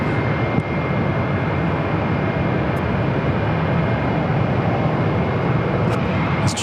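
A JetBlue Airbus A321 airliner taking off at Phoenix airport produces a steady, loud broadband jet roar that holds without letup, heard from a spotting position.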